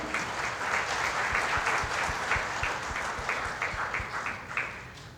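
An audience at a community forum celebrating immigrants in Marin applauds in a steady, moderately loud round of clapping with a few sharper individual claps standing out.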